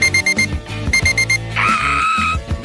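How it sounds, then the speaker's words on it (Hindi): An alarm going off close and loud, rapid groups of beeping electronic tones followed by a sustained ringing chime. "एक अलार्म जो मुझे नहीं चाहिए था।"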